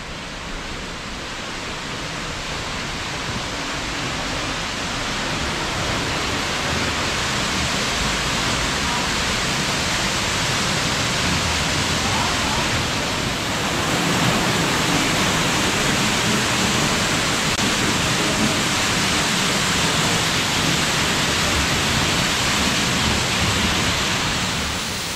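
A waterfall in a Czech rock city roars as a steady, dense wash of falling water, loud and continuous and growing slightly stronger as it comes nearer, with no talking.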